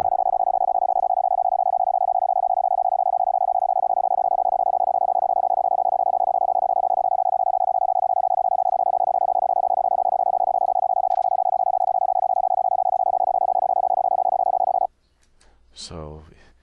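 High-speed CW Morse code plays as a steady loud tone keyed in rapid, barely separated elements, with clicky edge noise around the keying, ending in a brief burst of other sound near the close.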